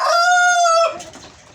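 A laying hen in a coop gives a loud, close drawn-out cackle with a steady tonal cry lasting under a second, then trails off into softer farmyard noise.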